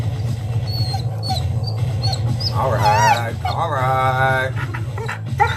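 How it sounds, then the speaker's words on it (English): A dog whines and yelps in high, wavering cries, rising into drawn-out whimpers with a short bark at the end, close by, while someone talks over it. "That's my dog. That's my dog."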